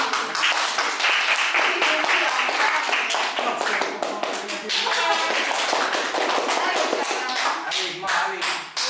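Dense, continuous clapping from a debate audience fills the whole stretch, loud and steady with scattered sharper claps and some voices mixed in.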